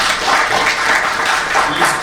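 Audience applause at a technical conference session, a dense, even wash of many hands clapping close and loud for the whole stretch.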